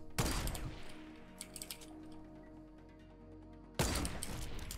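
A sniper rifle fires in Fortnite with a loud, sharp blast and a decaying echo, and a second heavy shot cracks out near the end.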